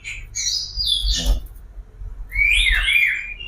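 Kacer (magpie robin) calling in two bursts of bright, squawky chirps and whistled notes, loud and close, with a short pause between phrases and no voices.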